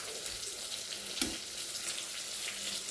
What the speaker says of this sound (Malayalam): മുകളിൽ നെയ്യ് ഒഴിച്ച് കൊടുക്കണേ.